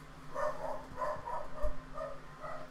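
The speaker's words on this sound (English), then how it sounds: "if you can hear a dog barking" A dog barks several times in a rough rhythm, the barks muffled and moderately distant, heard indoors behind a steady low hum with no talking.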